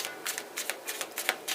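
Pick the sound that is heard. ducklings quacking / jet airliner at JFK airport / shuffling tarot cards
shuffling tarot cards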